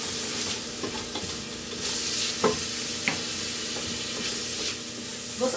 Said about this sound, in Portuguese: Vou fritar aqui ela um pouco.